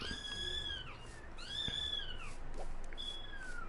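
Recorded meows from several different cats, played back indoors: three drawn-out, pitch-gliding meows in a row over a steady background hiss, fairly clear and close.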